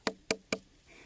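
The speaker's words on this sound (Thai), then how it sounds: "แล้วเวลาเราจะไปเลือกซื้อเราจะเลือกเคาะอย่างไงเคาะอย่างนี้เหรอ" Three quick, hollow knocks on a watermelon at a Thai melon farm, evenly spaced and close up, followed by a brief faint hiss.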